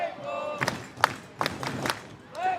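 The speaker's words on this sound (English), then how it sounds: "Crowd starting their own chant here at Walker Stadium" Baseball crowd at Walker Stadium during a Portland Pickles home game, voices rising in rhythmic bursts of chanting and cheering, a few sharp claps or thumps between swells, moderately distant and steady over about two and a half seconds.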